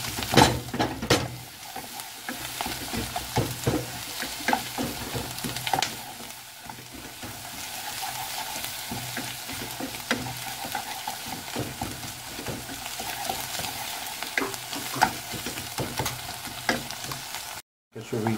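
Onion mixture with two cheeses and hot pepper paste stirred in a pan, a steady sizzle and frying crackle with scraping strokes of the stirring utensil throughout, close and moderately loud.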